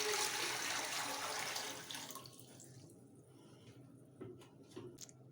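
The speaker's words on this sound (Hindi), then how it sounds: "मैं इसमें पानी डाल रही हूँ।" Water pours from a tap into a pot for chicken soup, a loud rushing stream that cuts off after about two seconds, followed by faint drips and small knocks in a quiet kitchen.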